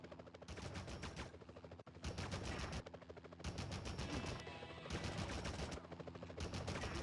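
Sustained bursts of automatic gunfire in the Spider-Man (2000) video game, loud rattling volleys broken by brief pauses, mixed with game sound and no talking.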